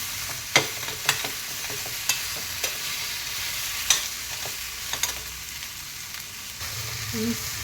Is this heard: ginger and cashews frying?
yes